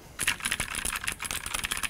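Fingers type quickly on a mechanical keyboard with blue switches, giving a dense, close run of sharp, crisp clicks in an uneven rhythm with no talking.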